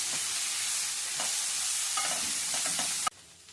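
Coriander, curry leaves and mint fry in hot oil with a steady, close hiss and a few light crackles, then the sizzle drops away abruptly near the end.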